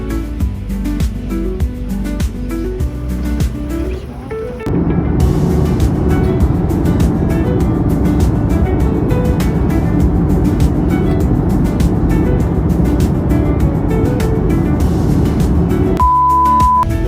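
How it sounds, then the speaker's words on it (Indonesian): Public city bus ride in Ho Chi Minh City, Vietnam: a steady, fairly loud engine and road rumble fills the cabin throughout, with a brief quieter stretch early on and a short beep near the end. "Nah, ini aku naik bus umum."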